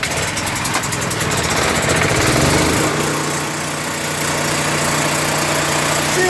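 RV generator engine, a cheaper alternative to an Onan, pull-started and running, giving a loud steady mid-pitched engine drone with vibration throughout.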